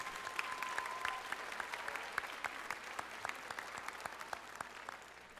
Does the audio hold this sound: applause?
yes